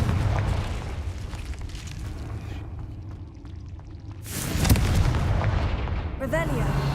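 A deep blasting boom from the Confringo fire spell in the video game Hogwarts Legacy, loud and rumbling over dense game sound, followed by a short rising magical shimmer.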